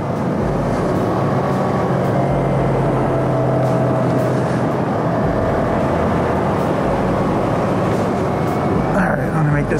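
A motorcycle engine runs steadily while the rider holds third gear through a turn, a loud continuous drone with wind rush, while someone talks over it.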